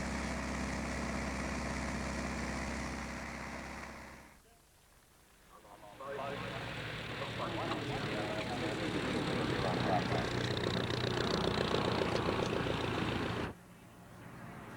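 A 1942 L4A, a military version of the Piper J3 Cub light aircraft, drones steadily at an airshow in New Zealand. The engine noise dips briefly partway through, then returns stronger, and at one point a voice speaks over it.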